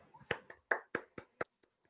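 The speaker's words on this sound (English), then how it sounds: "Let's all clap when he walks in" A handful of sharp, separate claps in an uneven rhythm, fairly close and quiet, fading to a couple of faint taps.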